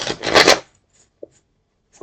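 A deck of tarot cards is riffled in one quick, close burst of crisp shuffling, followed by a few soft, isolated taps as the cards settle.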